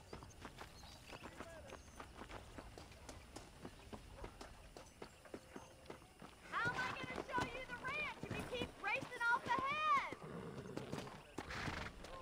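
Hooves clop along at a steady trot under talking voices in the video game Red Dead Redemption, with a horse whinnying partway through.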